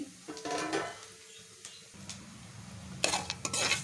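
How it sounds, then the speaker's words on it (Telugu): Shahi jeera and other whole spices go into hot oil for bagara rice, with utensil clatter, scraping and clinks over a soft sizzle, ending in a burst of louder stirring and metal knocks. "ముందుగా రెడీ చేసి పెట్టుకున్న ఈ సాజీరా, మిగిలిన మసాలాలన్నిటిని అయితే ఆయిల్లో యాడ్ చేసుకోవాలి"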